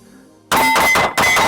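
Two loud, sharp gunshots from a Smith & Wesson Shield Plus handgun fired at a target on a range, about half a second apart, each with a ringing tail, after a quiet moment.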